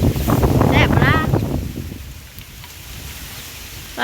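Cold, dry wind gusts across an outdoor microphone with a rough, rumbling rush, strongest at first and easing to a steady low blow as a voice talks over the start.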